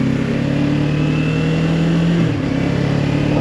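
A car engine holds a steady drone under load, then its pitch drops noticeably as the driver shifts from first to second gear, heard close from inside.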